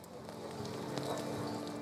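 Heavy rain patters steadily at a sailing regatta with very little wind, a dense, continuous hiss with scattered droplet taps, no voices.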